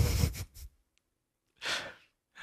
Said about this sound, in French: Une respiration.